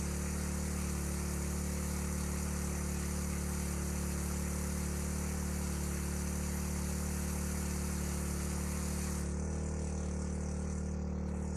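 Small engine powering a DIY stand-alone fire-hose pump system hums and whirs steadily at a constant idle, with a slight shift in tone near the end; no voices.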